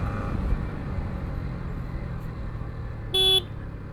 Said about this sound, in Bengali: আর এই মোড়গুলো তো অবশ্যই অবশ্যই হর্ন দিবেন